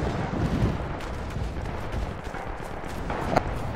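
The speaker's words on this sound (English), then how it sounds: "He's calling another artillery strike, I think." An artillery strike in a video game rumbles as a dense, continuous roar of distant impacts and booms, with one sharper crack near the end.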